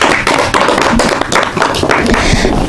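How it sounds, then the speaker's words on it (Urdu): Audience applause at a children's programme, a dense, steady patter of many hands clapping together, fairly loud and close, continuing without a break for the whole stretch. "بہت بہت شکریہ ان کے لیے، تالیاں"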